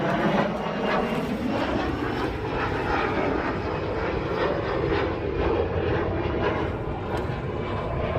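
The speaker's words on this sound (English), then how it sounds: "We wait for that plane to go by." A propeller airplane passing overhead above a garden, a steady loud engine drone that swells and fades slightly, with no talking.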